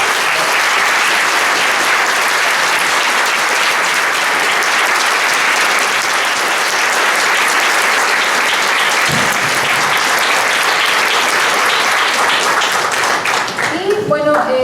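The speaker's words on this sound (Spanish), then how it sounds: "Así que un aplauso para esto." Sustained, loud audience applause fills a science talk event, dense clapping running steadily throughout with a brief shift near the end.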